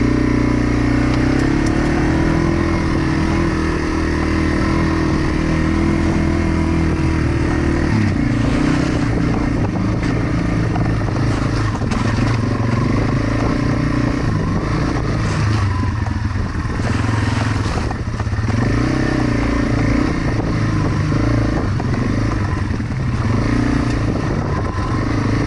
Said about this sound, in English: get back used to a dirt bike, well, a TW200.